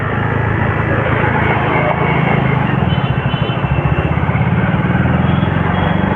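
A motorcycle ridden slowly on a road rumbles loud and close, its engine droning steadily with a low, rhythmic throb that grows more pronounced partway through.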